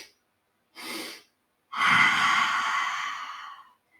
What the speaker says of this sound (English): you're kind of constricting the back of your throat and really making that sound as if you're fogging up your glasses